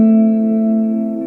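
A single sustained guitar note through a Boss GT1000 Core delay effect rings out with a smooth, echoing tail, holding steadily and fading slightly toward the end.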